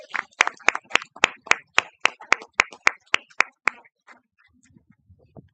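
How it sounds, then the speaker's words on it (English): Rhythmic clapping at a school governing board meeting in honor of a cheer squad, about fifteen sharp, evenly spaced claps in a steady beat, close and loud, then stopping abruptly and leaving faint murmur. "Can we give them another round of applause?"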